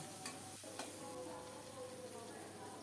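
Potatoes and pointed gourd stir-frying in a pan, a quiet steady sizzle with a few soft scrapes of stirring, faint and close.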